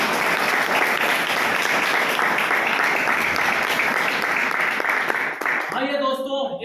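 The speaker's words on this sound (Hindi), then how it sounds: "जोरदार ताली बजा सकते हैं।" An audience at a seminar claps loudly and steadily for several seconds before the applause thins out and a voice starts speaking over the last of it.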